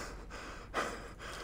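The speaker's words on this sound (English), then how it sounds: "Too much heavy breathing up in here" Heavy, ragged breathing from a character in the video game For Honor, a few close gasping breaths with one louder heave near the middle over a steady game background hum.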